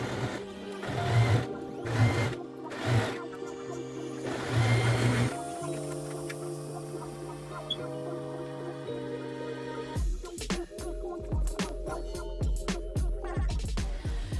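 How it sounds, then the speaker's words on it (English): A sewing machine stitches along the long edge of a handbag handle cut from old jeans, with short bursts of rapid mechanical whirring and tonal motor hum, pauses between runs, then a faster rattling stretch near the end. "Sew along the long edge where you've just pinned it down."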